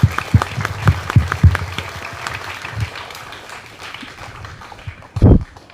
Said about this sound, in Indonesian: Beri tepuk tangan untuk staf OSIS yang lama ya.